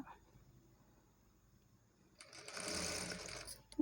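Sewing machine stitching a shape belt on a garment, a quiet low hum at first that swells into a loud, steady run of rapid stitching over the last second and a half.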